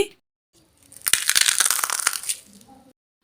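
A crisp, brittle crunch as a homemade fried rice-flour chip is snapped and crumbles, lasting about two seconds, close and fairly loud.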